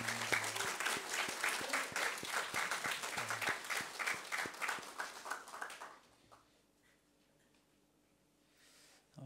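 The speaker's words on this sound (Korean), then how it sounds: "격려의 박수 한번 할까요?" A church congregation claps during a Sunday worship service in Milan, a fairly loud burst of applause for a new choir conductor that lasts about six seconds, then cuts off into quiet room noise.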